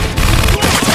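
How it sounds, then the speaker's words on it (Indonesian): Gunfire from a film shootout in which a man is killed, a dense burst of shots and crashes filling the whole second at loud, close range. "Sementara ayah Adam terbunuh dalam baku tembak tersebut."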